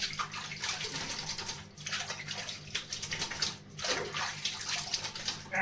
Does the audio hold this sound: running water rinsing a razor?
yes